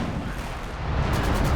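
Artillery barrage in Company of Heroes 2 from Scots rocket artillery: a dense, continuous low rumble of overlapping explosions, loud and sustained, with a few sharper cracks near the end.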